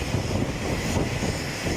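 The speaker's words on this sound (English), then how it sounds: "737 MAX 9 approaching 437" A Boeing 737 MAX 9 jet approaching Boeing Field gives a brief, dense, steady engine rumble and roar, loud and unbroken throughout.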